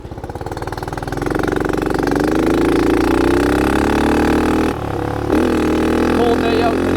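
A dirt bike runs on a cold snowy day, its engine revving steadily upward into a loud sustained drone, then briefly cutting out with a sharp drop before roaring back, hinting at backfires.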